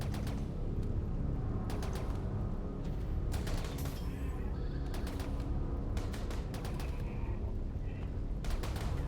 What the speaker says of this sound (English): one of the sniper mechanoids known as a Lancer begins firing on them